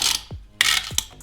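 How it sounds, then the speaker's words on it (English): A bit of styrofoam lodged at the back of a Nanrobot D5+ electric scooter scrapes and rasps as the stem is pushed up and locked, giving two short grinding bursts with a clack between them, close and alone. "So that sound you're hearing is a styrofoam, which is lodged into the back here"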